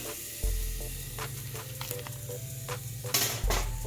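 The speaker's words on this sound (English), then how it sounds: "Let's go ahead and set it on our coals." Lamb shank, reverse-seared after oven cooking, set on hot coals, giving a steady loud sizzle with crackles and a few sharper bursts, plus a low hum underneath, no talking.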